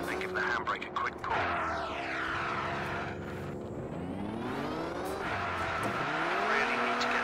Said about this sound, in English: turn hard into it and give the handbrake a quick pull